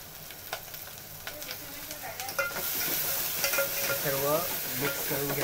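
Ground spices such as turmeric, garam masala, coriander powder and chilli are stirred into frying surmai fish, a steady sizzle with scraping spoon strokes growing louder and more hissing toward the end.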